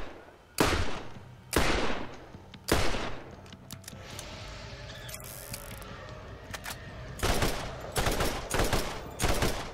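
Bursts of gunfire from Borderlands gameplay, with several loud rapid volleys near the start and end and quieter mechanical clicks in between, no talking.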